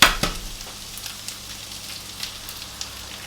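Two large eggs cracked into a hot frying pan, a sharp shell crack at the start followed by a steady close sizzle with faint spattering pops.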